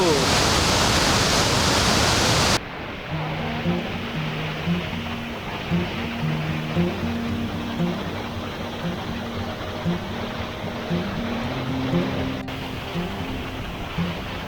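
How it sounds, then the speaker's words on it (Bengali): Perwaghagh Waterfall, hidden in a forest, rushes with a loud, close broadband roar that suddenly drops to a steadier, softer roar as people talk over it. "উকাই পুরো ওয়াটারফলের ফোর্সটা দেখো"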